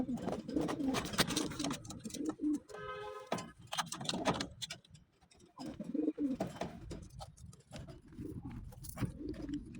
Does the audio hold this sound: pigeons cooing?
yes